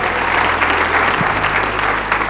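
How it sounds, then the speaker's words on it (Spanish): Church congregation applauding the camera crew at a service, a dense, steady burst of clapping filling the room for a couple of seconds with a low hum underneath. "¿Por qué no le dan un aplauso a los que están en cámaras allá atrás?"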